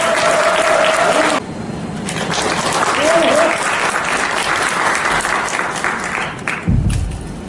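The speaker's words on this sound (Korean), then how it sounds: "큰 박수 부탁드리겠습니다." Sustained, loud applause from a large audience at a forum lecture fills the room, steady clapping with a few brief voices and a low thump near the end.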